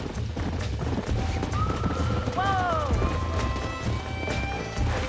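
Horses gallop and neigh in the Western video game Red Dead Redemption, with steady hoofbeats under a running music and effects bed, a clear whinny in the middle, and someone shouting over the herd.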